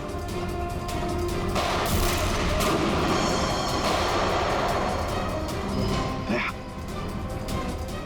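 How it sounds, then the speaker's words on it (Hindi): Gunfire in a tense police standoff scene, with a few loud shots rising over a dense, busy background of noise and shouting voices. "गोलियां चला कौन रहा है?"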